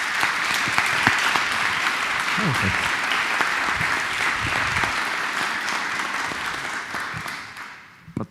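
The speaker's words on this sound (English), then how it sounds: "So please give them a big applause." An audience at a quantum computer inauguration ceremony breaks into sustained, dense applause that holds steady before fading at the end, with a brief spoken word heard early on.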